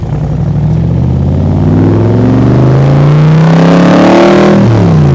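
A 2020 Backdraft Cobra Iconic Edition roars loudly past on a flyby, its engine revving and climbing in pitch before a quick drop as it passes, with no talk.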